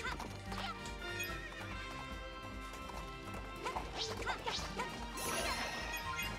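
Purple horses in the video game Princess Peach Showtime whinny loudly over galloping clip-clop hooves, with crashing impacts and game music layered throughout.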